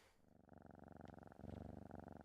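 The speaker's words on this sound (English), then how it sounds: "Ooh, that darn cat!" A cat purrs steadily and close up, a soft rhythmic rumble of quick even pulses that grows slightly louder partway through, with nothing else heard.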